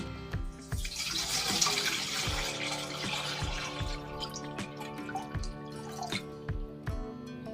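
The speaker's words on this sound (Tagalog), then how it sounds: "naglagay lang ako ng tubig dito sa ating kaserola" Water runs and splashes into a metal cooking pot for making macaroni, a steady trickling wash with small knocks and clinks underneath.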